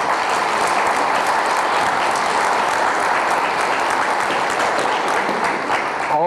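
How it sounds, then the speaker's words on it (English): Loud, continuous applause from the crowd at a Missoula flood information briefing welcoming Team Rubicon, a thick unbroken wash of clapping holding steady from start to finish. "I'd like to give a round of applause for Team Rubicon."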